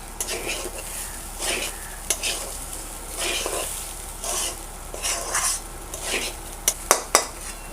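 Rice for hilsa pulao fries in a pan with a continuous sizzle, and a spoon stirs and scrapes it in repeated bursts that end in a few sharp metallic knocks.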